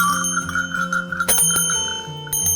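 Old brass bullock bells ring as they are handled, giving a sustained metallic tone that decays, then sharp clanks and jangles as the bells knock together, close and clear.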